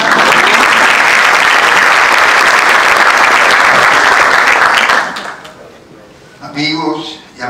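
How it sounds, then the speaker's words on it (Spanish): Loud, dense audience applause at a public lecture about Santiago's monument on Cerro del Castillo, sustained for about five seconds before cutting off, followed by a brief stretch of voices. "Un aplauso a Rafael Emilio."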